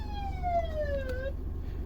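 An emergency vehicle siren wails with a clear falling tone over steady low traffic rumble, moderately loud and seemingly passing nearby, with no talking.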